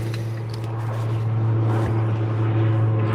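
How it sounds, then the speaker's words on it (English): A passenger plane passes right overhead on approach to a nearby airport, a steady low engine drone that swells slightly, heard from a boat in harbour. "there's another plane"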